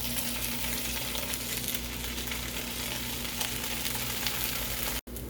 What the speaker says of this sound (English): while the eggs are cooking, we're going to throw on the bacon